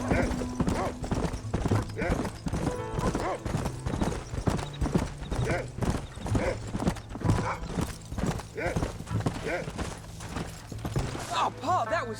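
Horse hooves clip-clop at a steady galloping rhythm in the Red Dead Redemption video game, loud and close, running continuously under voices talking and a sustained musical drone.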